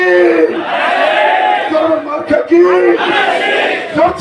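A crowd at a local BNP party conference in Tetulia union chants political slogans in loud, rhythmic unison, several voices rising together in repeated shouted bursts close by.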